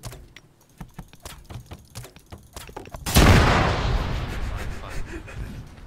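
Bomb blowing up in the video game ARMA 3 during a bank robbery: after a stretch of quiet clicks and taps, one loud booming blast hits suddenly, then a rumbling, debris-filled tail slowly fades.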